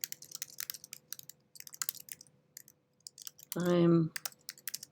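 Computer keyboard typing, light rapid key clicks in close irregular bursts, with a short spoken word cutting in near the end.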